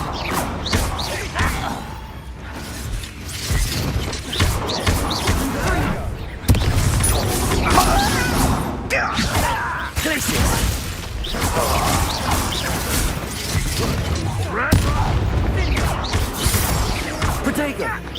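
Confringo explosive spell blasts in Hogwarts Legacy, punchy bangs and crashes amid busy combat effects and whooshes, with a person talking over the fight.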